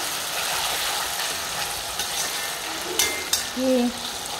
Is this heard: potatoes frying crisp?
yes